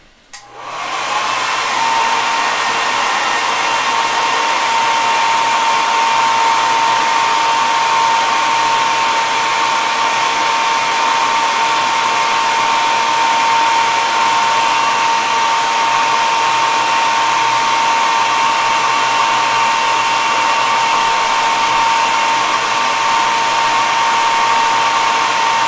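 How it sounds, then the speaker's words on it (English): Blow dryer drying acrylic paint roars loudly and steadily at close range, switching on abruptly and holding a constant whooshing drone with a high whine for the full length. "I'm gonna blast this with my blow dryer really quickly."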